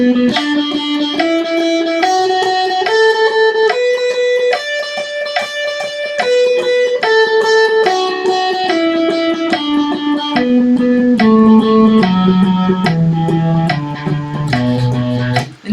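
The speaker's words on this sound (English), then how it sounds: "what you do is swing 16th notes" Electric guitar with a driven, effected tone playing a steady stream of swung 16th notes with pre-bent notes, single notes stepping up and down in even long-short pairs, loud and continuous with no talking.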